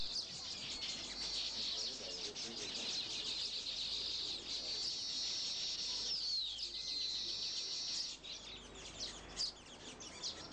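A group of weaver birds sings loudly together in a sustained, dense chorus of high chirps and trills that keeps going throughout and eases slightly near the end.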